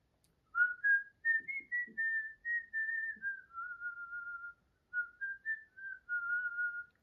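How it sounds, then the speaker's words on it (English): A person whistles a slow, wavering melody alone, clear and close, in several phrases with a short pause before the last. "Now I encourage you to whistle a tune from your heart"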